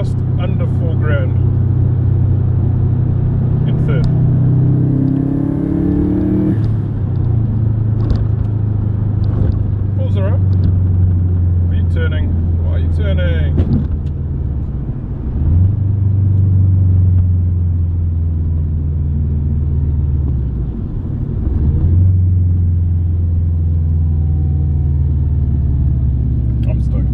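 A Subaru GC8 (MY00) on stock injectors drives under load, its engine a steady loud low rumble throughout with brief dips and swells as it eases off and pulls again. Someone talks intermittently over it.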